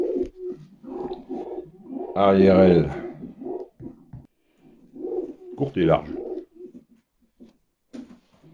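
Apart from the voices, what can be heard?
racing pigeon cooing while handled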